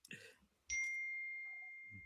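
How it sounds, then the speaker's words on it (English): A phone notification ding rings out in a room, a bright sustained chime that starts sharply and decays slowly over about a second and a half, following brief talk and with faint voices returning at the end. "Oh, whose phone's going off?"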